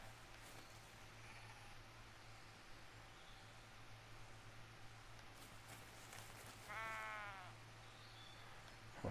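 A sheep in the farming game Pure Farming 2018 lets out one short wavering bleat near the end, heard over a steady low ambient hum with no talk.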